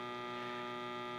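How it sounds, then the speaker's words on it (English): Cooling fan of a Harbor Freight Jupiter 2000 watt inverter in a truck camper, a steady, faint tonal hum held evenly for a brief moment with no voices. "that's the fan for the inverter,"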